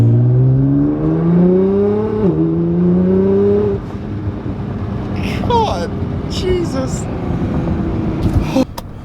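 An R32 Skyline GTR accelerating hard at half throttle, its engine note rising steeply and dipping briefly at a gear change before settling into a rushing drone, with excited exclamations from a passenger inside the car.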